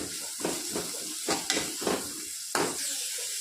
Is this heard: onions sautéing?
yes